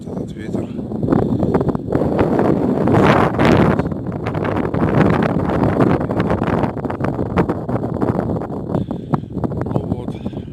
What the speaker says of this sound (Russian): ветер с порывами